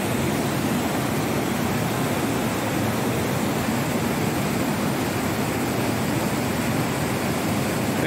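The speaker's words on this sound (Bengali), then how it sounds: "এই অন্ধকারেও কিন্তু দেখুন দূরে দেখা যাচ্ছে ঝর্ণাটা" A waterfall near Badrinath feeding the Saraswati river gives a constant, dense rushing roar, steady and unbroken throughout with no voices, at night.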